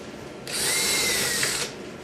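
Power drill boring a hole through tough plastic on a subwoofer cabinet, a steady close whine of about a second that starts and stops abruptly, with no voices.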